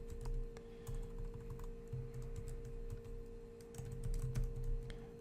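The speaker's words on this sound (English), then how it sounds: "I will type the command enable" Keys clatter on a computer keyboard as a command is typed, a quiet, steady run of soft clicks with small pauses, close and alone with no voices.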